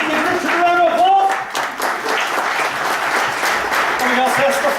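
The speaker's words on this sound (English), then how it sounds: "give Richard a round of applause" Applause from a group at a lively event, continuous clapping with voices and chatter mixed in, some cheering tones rising over the clapping.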